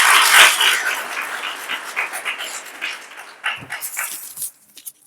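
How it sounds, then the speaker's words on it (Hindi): Crowd at a Republic Day program breaking into loud applause that swells at the start, then thins into scattered claps and fades out near the end. "एक बार जोरदार तालियां।"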